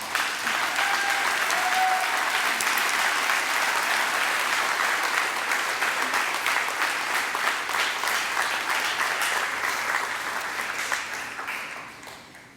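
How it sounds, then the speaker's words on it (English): An audience claps at a middle school closing-exercises award ceremony, a dense, steady wash of applause from many hands that holds for about ten seconds and then fades out near the end. "we started clapping a little early"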